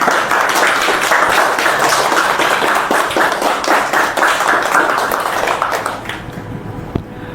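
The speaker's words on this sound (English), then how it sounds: "Can we give them a big round of applause?" Brisk applause from an audience at a hypnosis masterclass rattles on for several seconds, many hands clapping close and loud before thinning out and fading near the end.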